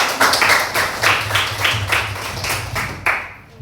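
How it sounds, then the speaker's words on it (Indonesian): A classroom of pupils claps together in a quick, steady rhythm of about a dozen evenly spaced beats, loud and close, then stops. "tepuk tangan"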